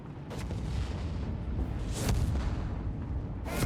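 Artillery shells booming in a Company of Heroes 3 battle, a dense continuous rumble of heavy blasts with sharper bursts near the middle and end, close and loud.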